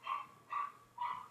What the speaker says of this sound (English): my dogs are barking upstairs